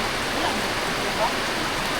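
Dense, steady rush of heavy rain pouring down, a continuous hiss filling the air close by.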